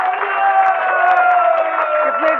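An audience in a hall claps and cheers in a dense, loud burst of applause for a couple of seconds, with crowd noise underneath.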